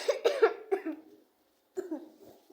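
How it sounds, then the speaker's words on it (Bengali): A person coughs in a quick burst of several harsh coughs, then after a short pause coughs again, close and clear with nothing else around. "আমার অনেক কাশি হচ্ছে, আমার ঠান্ডাও লাগছে হালকা হালকা"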